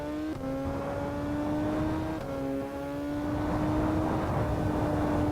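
Superbike engine in the VRider SBK racing game, a sustained high-pitched whine that climbs steadily in pitch, dipping briefly at gear shifts, fairly loud and alone.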